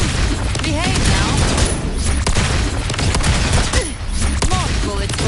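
Rapid gunfire bursts in the video game Wuthering Waves, dense and continuous over game music and effects, with a character's voice speaking over the shooting.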